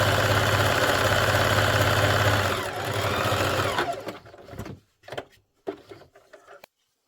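A sewing machine runs steadily while stitching down a jetted pocket, a close, loud continuous whir that slows and stops after about four seconds, followed by a few brief bursts of stitching and handling.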